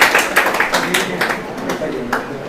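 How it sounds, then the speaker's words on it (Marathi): An audience at a quiz show in a study hall claps for a correct answer, a loose run of sharp, uneven claps nearby, with a voice speaking over them. "मित्रांनो जोरदार टाळ्या द्या सरांसाठी"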